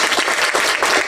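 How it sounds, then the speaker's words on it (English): An audience at a feminism lecture gives a sustained round of applause, dense steady clapping from many hands filling the whole moment without any voices. "So everybody, give Sara a clap"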